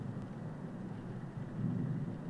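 Rolling thunder in the horror game The Mortuary Assistant, a steady low rumble that swells slightly toward the end, with no voices.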